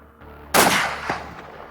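A single loud rifle shot booms close by during a dangerous-game hunt in South Africa, decaying with a brief echo over quiet outdoor background.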